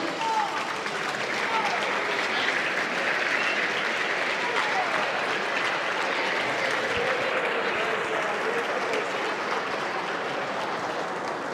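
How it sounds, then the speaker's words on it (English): A large audience at an evening awards gala honoring Ontario's food and beverage community applauds steadily and evenly throughout, a dense, sustained wash of clapping at moderate distance. "stand up and give them a round of applause, please."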